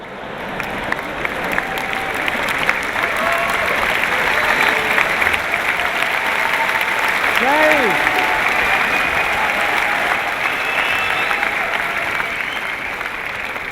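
A crowd claps steadily and loudly for the whole stretch, sustained applause with voices calling out over it.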